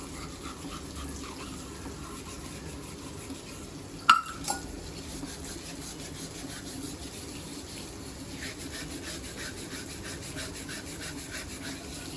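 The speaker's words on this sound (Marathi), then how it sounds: "आता मी दुसरी पण भांडी घासायला घेते" Brass and copper pots scrubbed by hand, a steady close rasping friction running throughout, broken once by a short sharp clank of metal.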